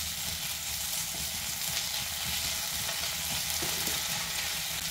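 Onions fry with ginger garlic paste and salt as they are stirred in a pan, giving a constant close sizzle with soft scraping strokes throughout.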